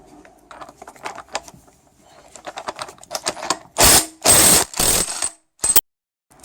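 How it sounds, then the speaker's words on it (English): A ratchet drives a 30mm socket on the lock nut of a Mercedes 722.5 automatic transmission, starting as a run of quick light clicks, then several loud, broad grinding bursts close up near the end. "Now I'm just going to start by unpeening that lock nut, and we've got 30mm socket."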